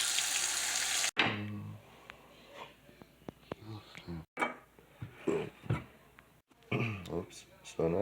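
Water running in a kitchen sink while utensils are washed, with clinks of metal and dishes through intermittent splashing. A voice talks over the washing.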